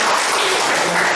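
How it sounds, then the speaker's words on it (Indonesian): A short, loud burst of classroom clapping, many hands close by in a dense flurry lasting about a second, without any talking. "tepuk tangan untuk."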